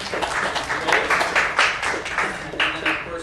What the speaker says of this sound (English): How about a round of applause for Morgan for taking time?